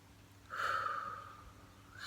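A single slow, audible breath during a guided meditation, drawn in softly and then drifting out, close and quiet against a faint background hum.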